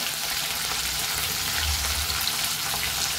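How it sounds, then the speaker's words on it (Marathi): Green chilies sauté in a pan with garlic for bhendi bhaji, a steady soft sizzle of frying that runs evenly throughout with no voices. "हिरव्या मिरची पण छान परतून घ्यायचं"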